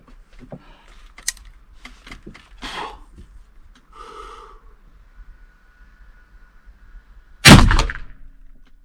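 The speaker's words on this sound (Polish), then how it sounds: "Piękny strzał." A single loud close gunshot from a Sharps Saquaro .45 rifle cracks out sharply near the end, following a stretch of quiet handling noises and breathing.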